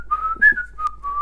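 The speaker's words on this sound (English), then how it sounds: "Can you whistle?" A person whistles a short, clear, tuneful phrase of a few sustained notes with slight pitch bends, close and loud, no talking.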